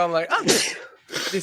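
A single sharp sneeze bursts out near the start, followed closely by casual conversation from people talking in a room.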